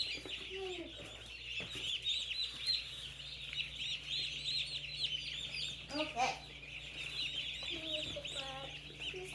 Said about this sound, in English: So let's count out some baby chickens now.